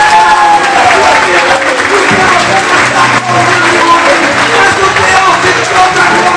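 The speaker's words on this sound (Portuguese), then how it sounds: "Que você dê um aplauso para o Senhor" A church congregation at an evening service applauds together, a loud continuous patter of many hands clapping, with a voice talking over part of it.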